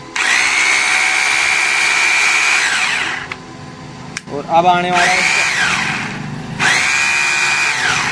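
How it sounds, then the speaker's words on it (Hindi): A hammer drill fitted with a diamond core bit runs in loud bursts, stopping and restarting with brief gaps; someone speaks briefly during a pause between runs. "अब इसका हैमर मोड चला के दिखाऊंगा मैं आपको।"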